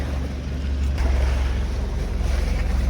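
Fishing boat engine running steadily at sea on a Pacific tuna trip, a continuous low drone mixed with wind and wave noise, no voices.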